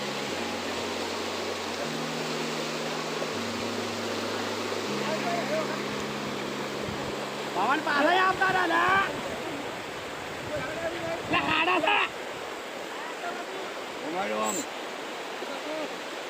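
Banas river water flowing near Dantiwada dam, a continuous broad rushing wash with a few louder surges, heard under faint background music.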